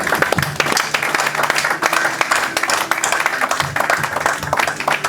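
Church congregation applauding together, a steady, dense roar of clapping that fills the room from start to finish, with voices faintly mixed in beneath it.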